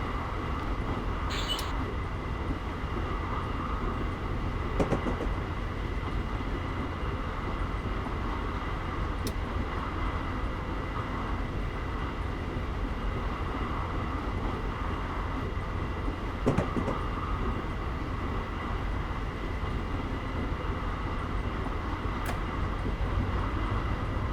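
Simulated diesel locomotive slowing under dynamic braking on a Los Angeles to Irvine route, a continuous heavy rumble and fan-like roar with occasional faint clicks and clanks, steady throughout.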